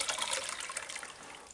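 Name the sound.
rinsing material in a water-filled wash basin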